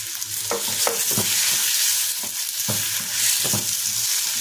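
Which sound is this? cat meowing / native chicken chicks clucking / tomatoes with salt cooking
tomatoes with salt cooking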